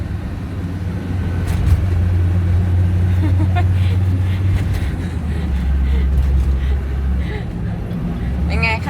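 A race car rolls slowly through a quiet residential neighborhood in the Netherlands, its engine a steady low rumble close by the whole time, with someone talking over it.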